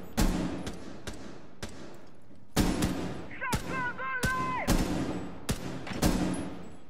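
Sharp gunshots crack out in Rainbow Six Siege, about a dozen single and paired shots spaced irregularly over several seconds, fairly loud and close, with a brief electronic warbling tone cutting in partway through.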